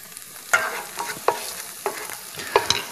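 Onion stews on low heat in a pan for a white risotto, heard as a faint background sizzle broken by several sharp spoon scrapes and stirring clacks at irregular intervals.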